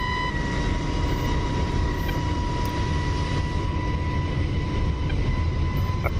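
F-35C jet engine in the DCS flight simulator during a carrier landing approach: a steady, loud roaring rush with a sustained high whine layered on top, holding constant and uninterrupted throughout.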